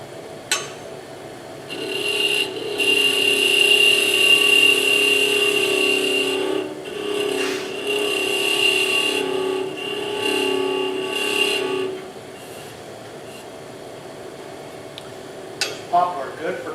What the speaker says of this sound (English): right now all I'm trying to do is just get this handle turned